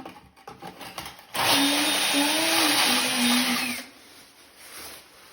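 A power drill bores holes in tile in an old farmhouse, giving one loud, steady whirring burst of a couple of seconds with quieter handling noise before and after.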